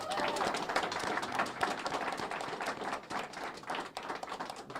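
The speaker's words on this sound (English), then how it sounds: "And let's give them a round of applause." A crowd applauds the youth service corps at a governor's announcement on youth employment, steady dense clapping filling the whole stretch at moderate level with some voices mixed in.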